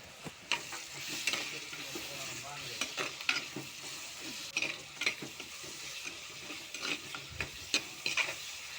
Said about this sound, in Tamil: நல்லா வதக்கிட்டே இருக்கலாம்.